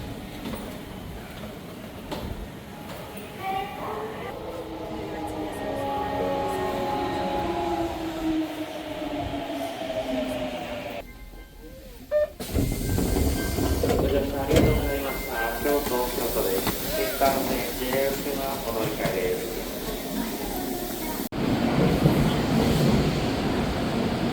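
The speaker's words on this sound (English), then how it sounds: "we're waiting for the bullet train" A Japanese Shinkansen bullet train hisses and rumbles past nearby in Hiroshima, its whine rising and shifting, with muffled station noise and some faint voices around it.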